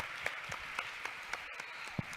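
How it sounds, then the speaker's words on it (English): Audience applause for a panel at the NAACP National Convention, a distant, faint wash of clapping with a few sharper claps standing out. "Give this panel a round of applause"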